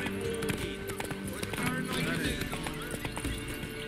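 A horse gallops in The Witcher 3, its rapid rhythmic hoofbeats running steadily under game music, with voices talking throughout.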